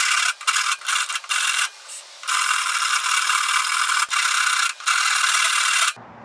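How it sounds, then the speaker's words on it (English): Stationary grinder shaping the tenon of a hand-carved wooden pipe, a loud rasping whir broken into repeated bursts with brief gaps as the wood is pressed on and lifted off, ending abruptly. "ended up just kind of grinding on it the same way I would with like bow stuff, and it works way better stationary for this part"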